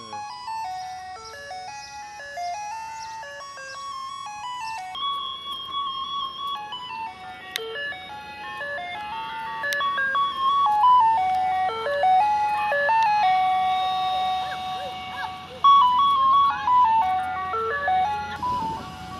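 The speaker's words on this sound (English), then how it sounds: "It's the ice cream truck." Ice cream truck playing its tinkling electronic jingle outside, a steady looping melody of bright chimes at moderate distance, with faint traffic rumble underneath and no talk.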